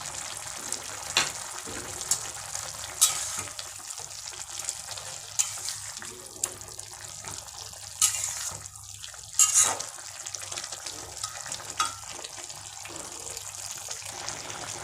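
Fish curry with bottle gourd leaves and green chillies bubbling in a wok, a soft steady simmering hiss with occasional louder pops and splutters throughout.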